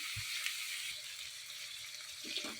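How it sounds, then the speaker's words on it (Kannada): Sprouted legumes frying in a pan for a mixed-vegetable kurma give off a steady, moderately loud sizzle that hisses continuously, with a few soft stirring knocks near the start and end. "ಒಂದೆರಡು ನಿಮಿಷ ಹಾಗೇ ಫ್ರೈ ಆಗ್ತಾ ಇರಲಿ"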